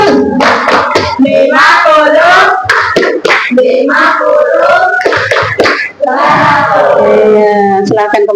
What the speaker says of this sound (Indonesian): tepuk 100 buat kelompok Andalah